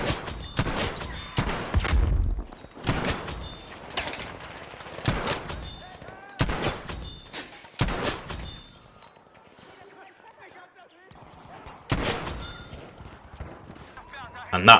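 Jungle Carbine rifle shots in Battlefield V underground Conquest, several sharp, loud gunshot cracks spaced a second or two apart, mixed with other battle noise and occasional talk.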